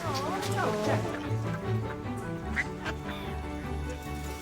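Ducks quack repeatedly nearby, a chorus of nasal calls mixed with people talking over them.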